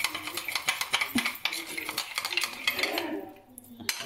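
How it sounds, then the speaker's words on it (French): A metal utensil stirs a thick beef daube mixture in a cooking pot, giving a busy run of scraping and clinking against the pot's sides with a soft sizzle underneath, close and continuous throughout. "Je mélange, il ne faut pas qu'il y ait de grumeaux."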